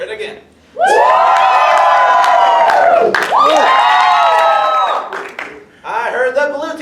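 Audience at an improv comedy show shouting and cheering for the blue team, a loud sustained roar of voices with whoops that breaks briefly in the middle and picks back up near the end.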